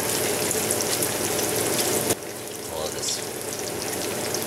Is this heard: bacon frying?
yes